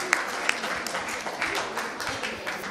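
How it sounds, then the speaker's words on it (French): Applause from an audience for a student team at a school quiz-match quarter-final, steady clapping at moderate level filling the moment, with a couple of sharper individual claps standing out. "Il faut l'applaudir."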